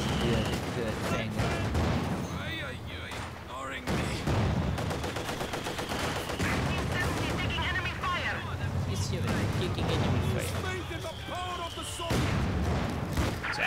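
Artillery barrage rumbling through a Company of Heroes 2 match, dense booms and crackling gunfire filling the scene steadily with heavy low-end weight, mixed under spoken commentary.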